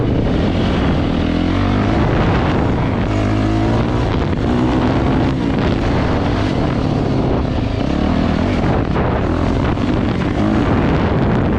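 A Yamaha YZ450F dirt bike engine roars loud and continuous while riding on trails, its constant close revving filling the whole stretch with rough, shifting throttle.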